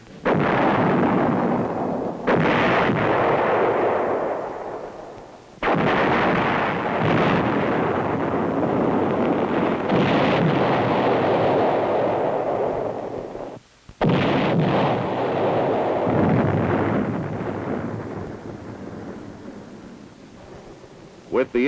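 Heavy booming artillery fire sounds during a 1969 battlefield sensor exercise, with long rolling roars that rise and fade over about twenty seconds, broken by sudden sharp onsets. The blasts are loud and distant-sounding, with a voice speaking beneath them.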